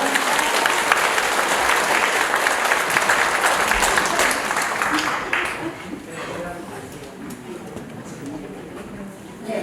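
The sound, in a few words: audience applause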